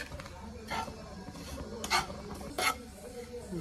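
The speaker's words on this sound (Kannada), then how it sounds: "ಹಾಗೆ ಡ್ರೈ ಫ್ರೈ ಮಾಡ್ಕೊಳ್ಳಿ ಲೋ ಫ್ಲೇಮಲ್ಲಿ ಇಟ್ಕೊಂಡು" Seeds of sesame and poppy shuffle and scrape as a spoon stirs them in a dry pan over low flame for sweet kadabu, with soft scratchy strokes and a couple of brighter utensil clinks against the metal.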